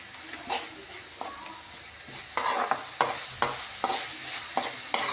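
Onions sautéing toward golden in a pan, with a low continuous sizzle broken by sharp, close spatula stirs and scrapes that come faster and louder in the second half.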